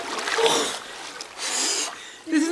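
Splashing water as a swimmer lowers into a cold outdoor 18th-century pool, with bursts of churned water and sharp gasping breaths close by, ending in a short vocal sound.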